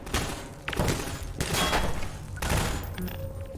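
Grenade blasts and gunfire in Half-Life 2 VR, a series of sharp loud bursts with rumbling decay, three main impacts spaced about a second apart, then trailing debris and ringing.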